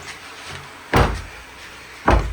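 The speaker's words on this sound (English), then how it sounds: "Ooh, it's a heavy door." A heavy door at a waterfront property thumps twice, each a loud, low impact with a brief rumbling decay, separated by about a second of quiet room tone.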